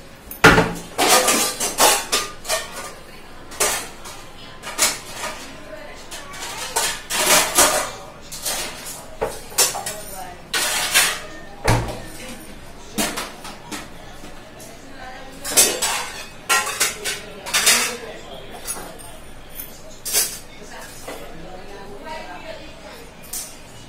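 Washed steel dishes and cutlery clank and clink as they are set into a dish stand in a home kitchen, a long run of sharp, close metallic knocks at an uneven pace, with someone talking now and then.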